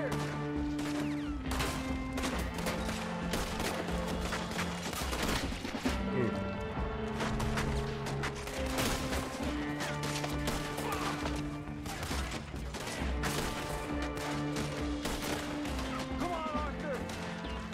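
Gunfire in Red Dead Redemption 2 during a shootout, repeated sharp shots scattered through a steady bed of music, with no talk.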